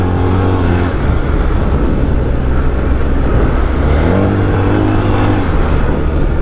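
A BMW R1300 GSA adventure motorcycle pulls steadily in fourth gear at about 80 km/h, its engine note loud and continuous over heavy wind rush. The pitch climbs and dips slightly across the run, with no talk.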